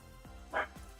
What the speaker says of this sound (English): Oh dear, puppy, come on, stop. It's a delivery person, just stop barking.